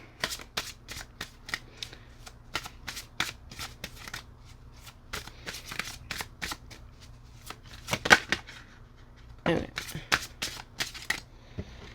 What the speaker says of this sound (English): So it shuffles really nice.